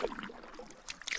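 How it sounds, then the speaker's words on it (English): Paddle strokes from a canoe or kayak on Helenbar Lake in Mississagi Park, heard as quiet, close water swishes and a few soft splashes over a hushed lake background. "So, Helenbar Lake, we're out paddling."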